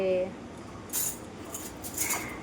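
Metal spoons clatter as a small child grabs them, with scattered light jangling clinks close by, one sharper burst and then a second smaller rattle.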